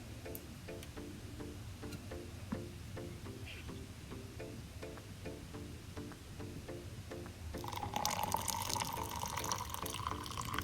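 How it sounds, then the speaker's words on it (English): Hot coffee is poured into a cup over hazelnut creamer, a soft liquid stream rising to a louder, brighter fill near the end after a run of faint rhythmic ticking. "And now I'm pouring in the coffee."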